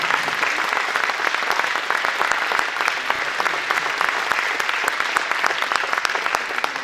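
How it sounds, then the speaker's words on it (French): Steady, dense applause from a crowd at a ceremony commemorating the 75th anniversary of a town's liberation, sustained and even throughout with no break. "Il est là aujourd'hui et je crois qu'on peut l'applaudir."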